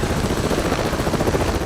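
A Samson aircraft from Avatar gives off a steady turbine whine under a dense, pulsing rotor chop, loud and sustained across the moment.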